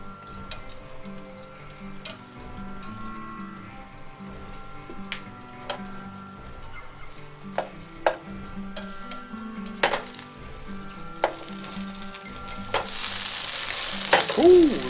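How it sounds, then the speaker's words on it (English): Grilled cheese sandwiches sizzle and fry in a pan, a steady crackle punctuated by clinks and scrapes of a spatula against the pan, growing louder toward the end, with no talking. "That one's sizzling."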